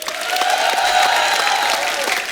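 Studio audience applause on a comedy talk show, a steady, dense wash of many hands clapping together at full volume with no pauses.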